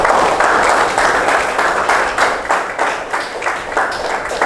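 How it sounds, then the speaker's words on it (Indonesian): A classroom audience applauding, dense hand clapping in rhythmic waves that stays loud and close throughout, with voices faintly mixed in. "Oke, kita tepuk tangan."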